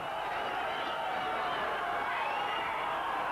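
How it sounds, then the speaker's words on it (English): Boxing arena crowd in Sheffield roaring during the Ryan Rhodes vs Otis Grant fight, a dense, continuous wash of cheering and shouting at steady loudness with no clear breaks. "Sheffield crowd are at fever pitch."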